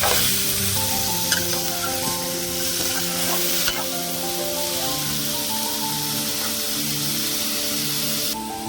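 Ridge gourd pieces fry in hot oil in a pan, a steady close sizzle broken by occasional scrapes and clinks of stirring, with no voices.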